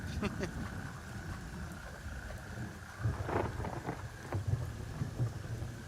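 Thunderstorm in the shooter game Gray Zone Warfare: a steady wash of rain with low rumbling thunder rolling in from a distance, swelling in the second half, with faint talk underneath.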